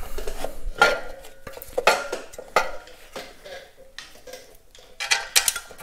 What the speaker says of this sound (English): I'll just throw a couple bolts in loosely just to hang everything for now